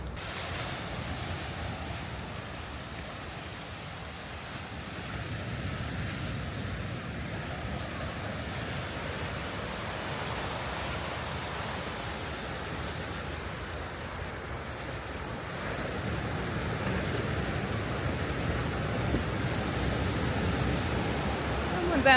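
Ocean surf rolls onto the beach at Leblon in Rio de Janeiro, a continuous broad wash of breaking waves with light wind, swelling louder toward the end.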